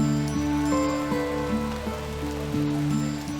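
Rain falls in a steady, even patter, with a tonal musical drone layered over it throughout.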